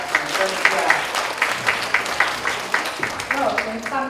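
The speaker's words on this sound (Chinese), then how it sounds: "掌声一下" Short burst of audience applause at a live hairstyling perm demonstration, rhythmic clapping from a small crowd, fairly close, with speech mixed in over it.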